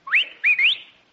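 A bird-call whistle used as a sound effect in a vintage radio comedy: two quick rising whistled chirps, clear and close, with no talk over them.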